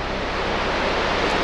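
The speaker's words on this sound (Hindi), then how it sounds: "और ये देखिए ये है दारा वाटरफॉल।" Floodwater at Dara waterfall roars as a continuous broadband rush, loud and steady with no breaks, filling the whole soundscape with no voices over it.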